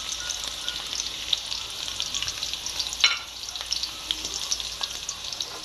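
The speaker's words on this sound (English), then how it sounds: "So you're gonna go ahead and let your seasoning saute for a good 5 minutes." Onions and seasoning sautéing in a hot pot for beef curry, a bright, steady sizzle with occasional pops and one sharper stir-scrape, heard up close and without speech.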